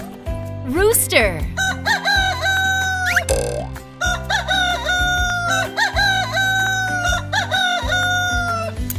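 A rooster crows several times over a bouncy children's song with steady beat and melody, its calls mixed in with the music.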